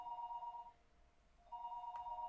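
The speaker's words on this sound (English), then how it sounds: "The phone rang noisily downstairs." Electronic telephone ringing in the Higurashi video game, two bright trilling rings separated by a short pause, clear and alone against a quiet background.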